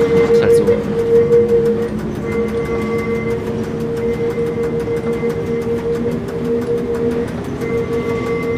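A tram in the OMSI 2 bus simulator game runs loudly on rails, with a steady mechanical drone, sustained motor tones and a regular rhythmic clatter throughout, close and dominant.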